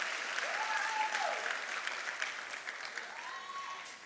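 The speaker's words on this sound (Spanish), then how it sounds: "Denle un aplauso al Padre Celestial y pónganse de pie" A church congregation claps during a Spanish-language worship service, a fairly soft, broad ripple of many hands that tapers slightly toward the end, with faint tonal voice or instrument sweeps rising through it.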